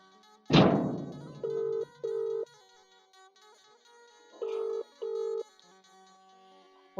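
A phone line rings after a call is dialed: a thunk first, then two paired bursts of ringback tone separated by a pause, clear and alone.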